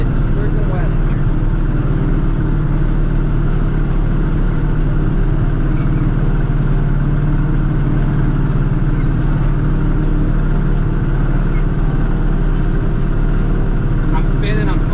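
A loud engine drones and revs continuously as the vehicle slides with wheels spinning in wet, rutted mud while corn chopping, a dense rumble that masks any other sound.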